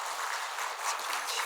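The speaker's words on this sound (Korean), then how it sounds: "우리 박수로 환영할까요?" A church congregation applauds to welcome a member, a dense and steady patter of many hands clapping at a moderate distance for a brief moment.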